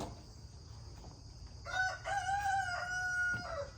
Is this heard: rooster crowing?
yes